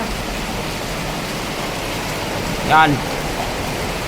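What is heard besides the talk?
rushing floodwater rising around a scaffold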